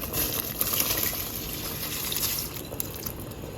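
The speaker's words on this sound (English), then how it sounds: "Now we're going to add our washed rice." Washed rice being added to a pot of liquid for Jamaican gungo peas and rice, a continuous close watery rush and splashing with a faint bubbling underneath.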